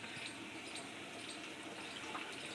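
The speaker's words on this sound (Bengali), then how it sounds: "এবার আমি গরম জল দেবো।" Hot water pours steadily into a pan of potato curry, a continuous close splashing gush lasting a couple of seconds.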